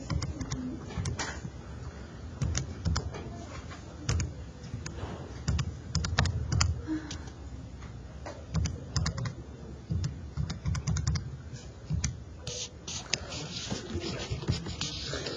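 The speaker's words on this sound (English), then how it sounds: "I just have to type that on my calculator." Numbers are tapped into a calculator, a close, irregular run of small plastic key clicks going on throughout, with quiet background noise and a bird cooing faintly behind.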